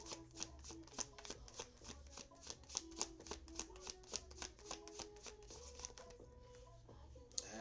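Tarot cards being shuffled close up, a rapid, even run of crisp riffling flicks lasting several seconds, fairly quiet, fading at the end.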